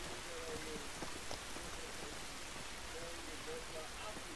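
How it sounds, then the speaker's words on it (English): Steady rain in The Last of Us Part 2 video game, a dense continuous hiss of falling drops with faint tonal game sounds drifting through, heard at a low, even level throughout. "It's raining."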